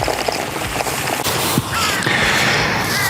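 Crows caw outdoors in a natural setting, a few harsh calls standing out over a steady wash of broadband background noise.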